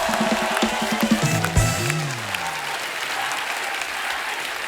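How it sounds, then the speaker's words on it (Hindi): Studio audience applause on a Hindi TV comedy talk show, loud, dense clapping that runs throughout, with a musical sting sounding over it early on. "जोरदार तालियां रणबीर और अनुभव बस्सी के लिए।"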